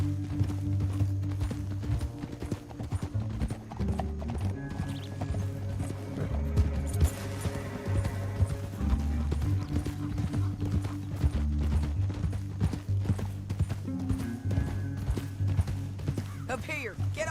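Rapid, rhythmic hoofbeats clatter steadily throughout, a horse galloping at pace in Red Dead Redemption with mechanical noises layered underneath.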